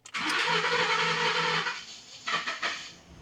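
A 2012 Ford F-150 with the 5.0 engine, just after an injector O-ring replacement, cranks loudly and briefly, catches and fires, then settles into a few uneven revs as it idles down; no talking.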